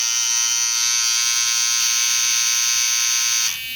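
A high-vis electric hair trimmer runs with a steady, close, high-pitched buzzing hum that holds evenly before cutting off near the end.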